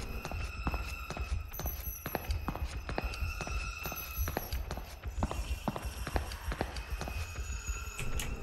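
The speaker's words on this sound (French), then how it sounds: "Bah j'entends courir plutôt." Quick footsteps run through a dim building in the horror game DreadOut, a steady patter of steps under a constant low hum with scattered clicks and game noises throughout.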